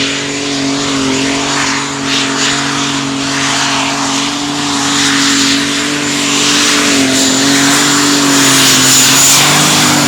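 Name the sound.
tractor pulling tractor with exhaust turbochargers revving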